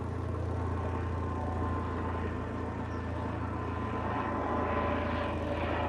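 A steady low rumble of a low-flying aircraft engine passing overhead in Italy, continuous and fairly loud, with no talking.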